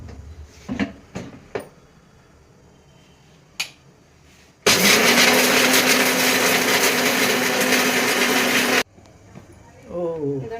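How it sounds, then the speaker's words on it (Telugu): A kitchen mixer grinder whirs loudly and steadily for about four seconds while grinding coriander chutney for idli, with a few clicks and knocks before it starts and a voice speaking after it stops. "ఫస్ట్ రుబ్బుకుందాము తర్వాత కొన్ని నీళ్ళు పోసి రుబ్బుదాం"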